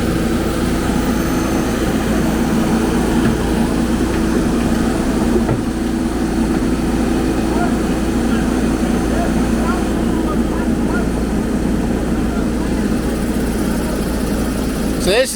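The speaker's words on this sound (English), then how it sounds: "So this is the old loader" An old loader engine runs steadily, a loud continuous low drone and rumble at constant pitch throughout, with no break in the noise.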